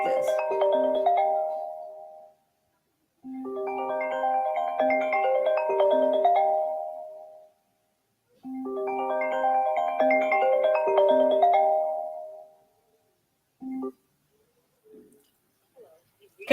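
A phone ringtone plays in three long melodic bursts separated by short pauses, loud and close, with a brief fragment at the end and no talk over it.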